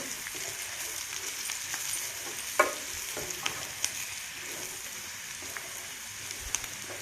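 Diced potatoes fry steadily in a pan for a simple Telugu-style potato fry, a continuous soft sizzle broken by a few sharp scraping knocks as the spatula stirs them, close up with no voices.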